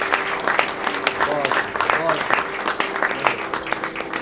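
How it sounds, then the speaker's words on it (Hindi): A crowd applauds at a book release ceremony after a musical performance, brisk clapping with sharp individual claps standing out and voices murmuring beneath it. "और भी जोरदार तालियां"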